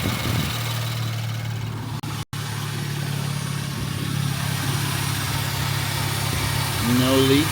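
A 2018 Porsche Panamera 4S biturbo engine idling just after start, a steady low rumble with a constant hum, heard close by with a brief dropout partway through.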